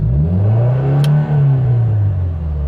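A Subaru WRX engine, clutch in and in first gear, revs up to about 4000 rpm and holds a steady, loud, close droning tone, dipping slightly before settling.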